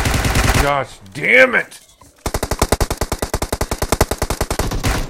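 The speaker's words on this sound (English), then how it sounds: "God, I can't even shoot out of a window." Video game automatic gunfire rips out in a long rapid burst of evenly spaced shots, following a brief shouted exclamation from a player.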